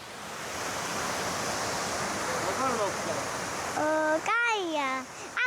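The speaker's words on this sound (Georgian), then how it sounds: "ეს პატარა ჩანჩქერი." A small waterfall in the Tbilisi area pours in a steady, close rush of flowing water, and people's voices come in over the noise toward the end.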